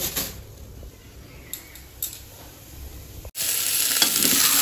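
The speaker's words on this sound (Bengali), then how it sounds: "ডালটাকে ভেজে নিলাম" Mung dal fries in a pan with potato, carrot, tomato and green chillies for a village meal, giving a soft sizzle and a few stirring scrapes before a sudden louder burst of frying hiss near the end.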